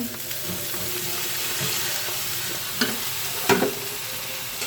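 Carrots and other vegetables go into onions already fried in hot oil, making a close, steady sizzle with a couple of sharp clinks from a utensil against the pan.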